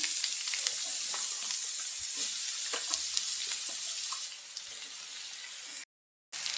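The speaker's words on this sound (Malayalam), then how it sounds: "ചെറിയ ഗോൾഡൻ നിറം വരുന്നത് വരെ സവോള വഴറ്റിയെടുക്കാം" Onions and a green chili sauté in oil for Kerala chicken cutlets, a steady close sizzle broken by soft scraping stirs, running unbroken until a brief dropout near the end.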